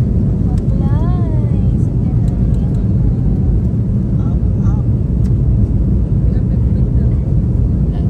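An airplane takes off near Boracay, making a loud, steady broadband roar that fills the whole stretch, with brief voices rising over it early on.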